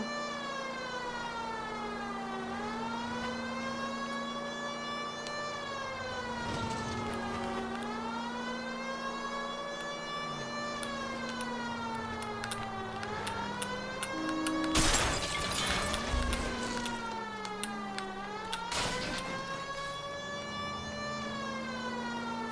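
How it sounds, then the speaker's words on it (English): A police car siren in the video game L.A. Noire wails in repeated rising and falling sweeps, loud and continuous over a low engine drone, with a few brief bangs near the end and no talking. "Like nobody cares that the siren's on."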